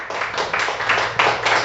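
A church congregation at a Spanish-language service giving the Lord a round of applause, a short stretch of loose, uneven clapping at moderate volume.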